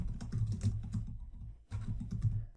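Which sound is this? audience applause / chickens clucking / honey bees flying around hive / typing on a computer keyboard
typing on a computer keyboard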